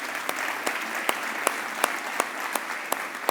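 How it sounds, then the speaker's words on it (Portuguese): Church congregation applauding, a soft wash of many hands with distinct rhythmic claps falling in a steady beat about every third of a second, fairly quiet and distant. "Você pode aplaudir Jesus"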